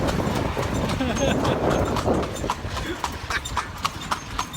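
Horse hooves clip-clop steadily from a horse-drawn carriage moving through Lampang, Thailand, the crisp rhythmic strikes up close with faint voices and street noise around them.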